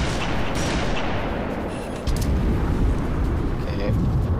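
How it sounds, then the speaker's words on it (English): A grenade blast in a shooter game set amid an avalanche: a loud, rumbling burst of explosive noise with heavy low-end that swells again midway and fills the whole moment. "I'm pretty sure I got a nade on him."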